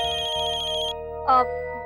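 A mobile phone ringtone plays a repeating electronic melody, clear and close, with a brief louder chirp near the end.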